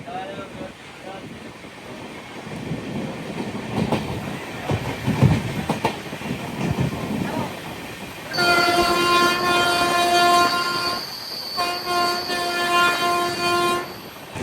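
The Vivek Express runs through Assam, its carriage rumbling and rattling close by under wind buffeting, then a loud, sustained train horn sounds for several seconds, breaks off briefly, and blares again.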